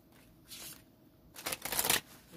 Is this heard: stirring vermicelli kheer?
no